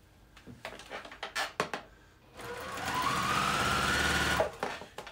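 A sewing machine stitching several seams in a row without lifting the needle: short bursts of rapid mechanical chatter, then one longer steady whirring run, close and clear.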